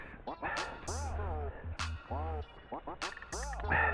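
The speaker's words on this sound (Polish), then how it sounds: "Pies tu lata koło mnie. Pilnuje." A dog running around outdoors during metal detecting lets out repeated close yips, whining barks and whimpers in uneven bursts, fairly loud against a low steady hum.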